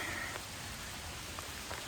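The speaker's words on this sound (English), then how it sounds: "I'm getting rained on now" Rain falling during a thunderstorm, a steady even hiss of drops on surfaces outdoors, moderately faint and constant with a few faint ticks and no talk.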